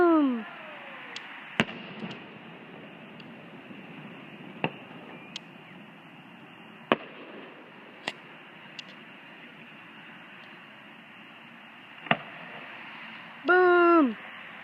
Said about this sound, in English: we'll end it with some awesome fireworks